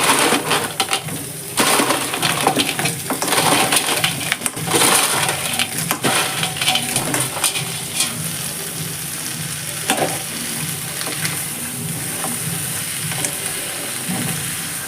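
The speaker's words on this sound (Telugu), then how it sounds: "ఇందులోకి ముందుగా శుభ్రం చేసి పెట్టుకున్న పీతలు వేసుకోవాలండి" Cleaned crabs tumble into a pan of spices cooked down in oil for a Telugu-style crab curry, setting off a loud, steady sizzle with scraping and clattering as they are stirred in, no voices.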